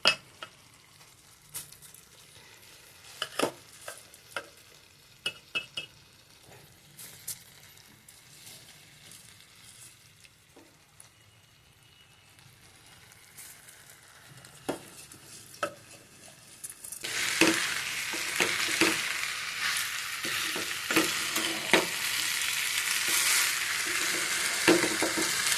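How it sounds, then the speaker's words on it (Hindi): Rice being added to a kadai and stirred, with scattered spoon clicks and scraping, then a louder steady sizzle and frying hiss as stirring continues. "तो अब रख रही हूँ चावल।"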